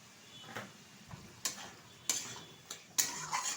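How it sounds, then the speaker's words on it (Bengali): Cleaned medium-sized prawns go into a pan of cooked-down spice paste, marked by a handful of quiet, separate clinks and scrapes of a utensil against the pan, with soft stirring between them. "এখন দিয়ে দেবো বেছে রাখা চিংড়ি মাছ।"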